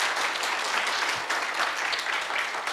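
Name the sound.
audience applause for a speaker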